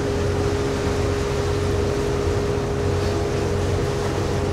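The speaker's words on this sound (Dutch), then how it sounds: "Hier voor mij steekt het veerpontje Lotterlom over." A small cable ferry, a pontoon drawn across the water on a cable beside a campsite, gives a steady low engine drone with a constant hum and no change through the whole stretch, with no voices.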